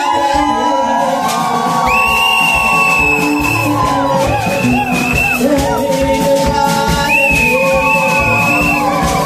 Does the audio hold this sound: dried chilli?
no